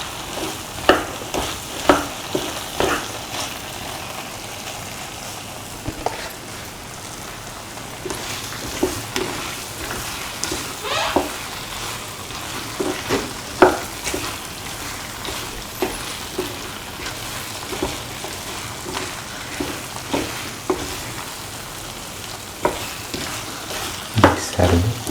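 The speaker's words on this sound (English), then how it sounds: "Keep on sauteing. Saute and mix thoroughly." Plantain and cashews sautéing in a pan, a continuous sizzle broken by repeated scraping and clattering stir strokes, close and fairly loud, with no talking.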